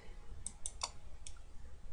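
A computer mouse being clicked, giving about four short, sharp, close clicks spaced unevenly over two seconds against a faint background hum, with no talk.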